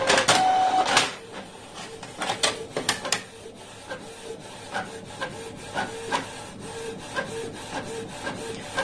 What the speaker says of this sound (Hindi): आप देख सकते हो यहाँ पे मेरा प्रिंट आउट निकल रहा है।